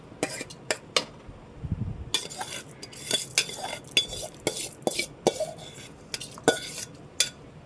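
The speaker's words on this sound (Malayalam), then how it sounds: "ഇങ്ങനെ ഇളക്കി വേകാൻ വേണ്ടി വെയിറ്റ് ചെയ്യാം" Rinsed raw white rice stirred as it cooks in a pot for tomato rice, heard as sharp, irregular scrapes and clinks of a utensil against the pot, close and dry, with short quiet gaps between strokes.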